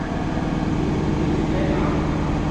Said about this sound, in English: that's with the open flap.